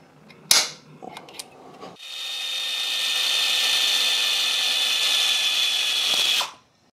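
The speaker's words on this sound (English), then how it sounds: "now I'm just going to drill a hole in this protrusion from the engine case here." Power drill boring a hole into a Honda 919 motorcycle engine case, a few sharp clicks and knocks, then a steady high-pitched whirring drill run lasting several seconds before cutting off abruptly.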